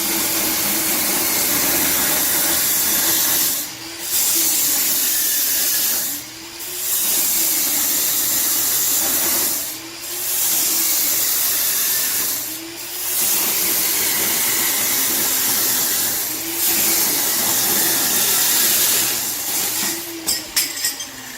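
A cutting tool slicing through the exhaust pipe on a Ram with a 5.7 Hemi, a loud harsh hissing whine in repeated bursts of about three seconds separated by short pauses.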